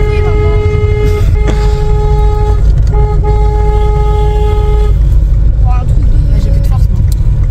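A car horn honks in a series of blasts, some long and some short, loud and close, with people talking in between.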